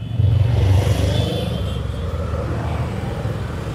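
Honda Bigwing motorcycle pulling away after a U-turn, a loud close engine rumble that swells early and then settles into a steady throaty drone with some clatter, no speech.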